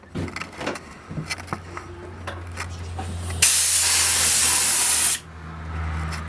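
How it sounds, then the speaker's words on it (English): A spray gun hooked to an air compressor fires a test burst in a woodworking shop: faint handling clicks and taps, then a loud, steady hiss of spray for about two seconds that cuts off sharply. "I have it attached to my air compressor, and then do a couple of test runs over here"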